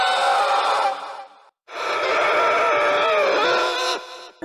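A video game monster screams in agony, two long loud anguished wails separated by a brief silence, the second trailing off into a strained moan.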